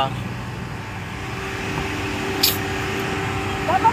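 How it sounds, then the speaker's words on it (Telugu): A lorry engine idles and rumbles nearby in a steady drone, with a faint higher whine and a brief sharp noise partway through. "అమ్మో ఈ లారీ వాడు సౌండ్ ఆపట్లా."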